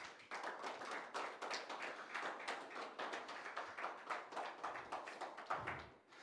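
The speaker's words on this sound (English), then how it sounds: "just clap your hands to the Lord." Congregation clapping hands in church, a dense, continuous patter of many hands in rough rhythm, close and steady, briefly easing near the end.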